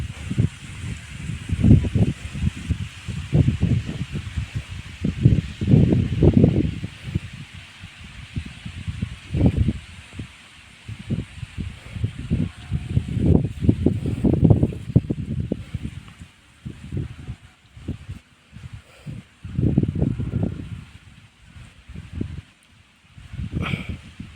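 Wind gusts across open onion and jowar fields on black soil, rushing in uneven surges with rustling leaves and low rumbling buffets against the microphone, with no talking.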